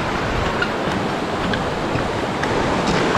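A large river flowing near a mining area, fed by mountain runoff, makes a steady broadband rush of moving water with no break, close and fairly loud.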